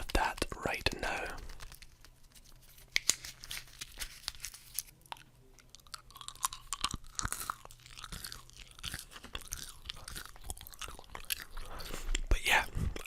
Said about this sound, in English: I do have some chewing gum with me as well, so we'll get a bit of that right now.